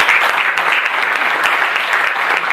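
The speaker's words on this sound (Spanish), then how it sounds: "otro aplauso para ustedes." A crowd at a political gathering in Costa Rica applauds loudly and continuously, dense clapping sustained throughout with no pauses.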